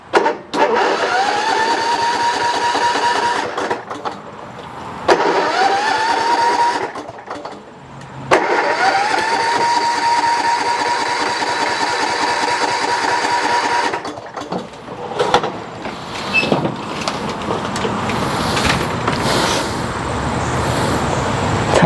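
A Kohler Courage engine on a Troy-Bilt Bronco mower turns over and runs in several loud, close bursts, cutting out briefly between attempts before settling into a steadier rough running drone.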